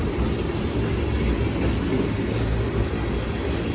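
A Norfolk Southern freight manifest train rolling past close by, a dense continuous rumble and rattle of wagons with wheel noise, steady and loud throughout.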